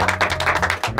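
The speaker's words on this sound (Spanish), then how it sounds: "les quiero dar un aplauso a ustedes" Short burst of applause from a group, likely children on a kids' show, with dense overlapping claps steady for about a second over a low background hum.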